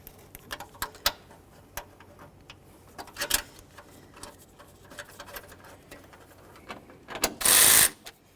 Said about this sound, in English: Go ahead and bottom these out and torque them to 62 inch-pounds.